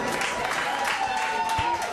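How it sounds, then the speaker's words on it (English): Applause from the audience at a Montserrat Idol singing contest, a steady wash of many hands with faint crowd noise and a thin sustained tone running underneath. "Give you an applause for Raquel."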